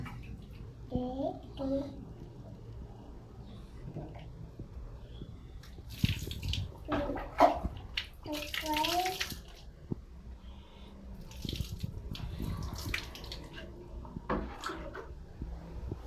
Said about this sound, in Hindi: तुझे हाथ धोने आता है?